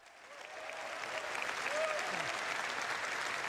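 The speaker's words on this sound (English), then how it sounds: "this was the applause at the end" An audience applauds at the end of a presentation at the CitizenCon 2024 event, the clapping swelling from quiet to a dense, sustained roar with faint crowd noise.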